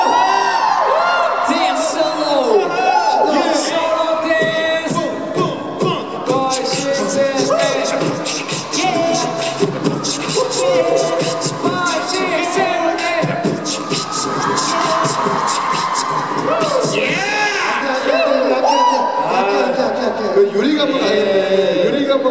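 A concert audience in Singapore at the SS5 encore, cheering, whooping and screaming loudly and continuously, with a host's voice speaking over the crowd at times.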